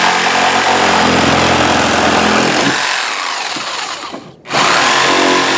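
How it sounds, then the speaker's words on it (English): A reciprocating saw rips steadily through horizontal wooden fence boards, a loud continuous buzzing cut that thins out near the end and stops abruptly as the board breaks free, then starts up again. "cut these horizontal boards that are securing the fence to the post on each end before they come. Use my reciprocating sawzall."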